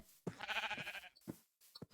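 Sheep in the Minecraft video game bleat in a few short, loud, wavering bursts separated by brief silences, heard clearly with no talking.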